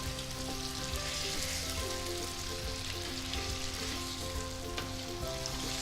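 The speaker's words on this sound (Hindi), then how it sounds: "ये चिकन जो है ये गार्लिक और जिंजर में अब इसी तरह पकेगा" Chicken fries in garlic and ginger for a charsi karahi, a dense, steady sizzle and crackle at close range with faint stirring, and no voices.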